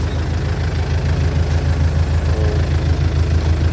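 A DTZ 5404 tractor engine runs steadily in low range while cultivating potatoes, its loud, low diesel rumble continuing without a break.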